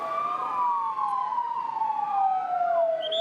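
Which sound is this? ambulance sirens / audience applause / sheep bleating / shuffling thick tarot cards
ambulance sirens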